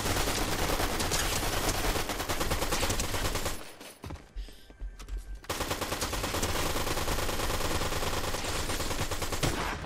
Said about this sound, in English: Gatekeeper shotgun.